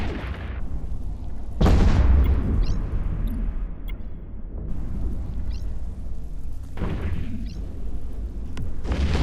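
Missile explosions from a Cyclone II command ship in the space game EVE Echoes, several deep booming bursts at irregular intervals, with a sustained low rumble between impacts and no talking.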